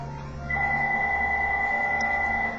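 A phone rings during a math lesson with a steady electronic tone that starts abruptly and holds for about two seconds, moderately loud over a quiet room.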